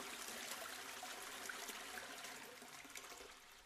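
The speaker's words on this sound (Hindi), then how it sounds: "फ्लश करने की ध्वनि सुनी।" Water rushing and swirling steadily, as from a toilet being flushed, a broad continuous wash of sound that fades slightly toward the end, with no voices.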